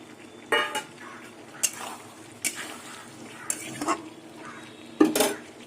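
Intermittent clanks and scrapes of a utensil stirring fried pointed gourd and potato in a metal pan, with a faint sizzle between the sharp hits.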